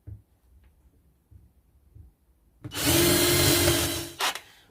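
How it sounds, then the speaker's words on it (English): After a few soft knocks, a drill roars up close for about a second and a half, countersinking a screw hole in a small wood scrap, then stops abruptly with a brief whir. "Countersink it so that we don't hit the chisel into the screw head."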